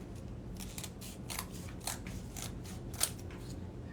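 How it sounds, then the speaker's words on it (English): Scissors snip a paper handprint cutout in a quick series of close, crisp cuts, about eight or nine short snips in an uneven rhythm over quiet background. "I'm gonna have to go back and trim it."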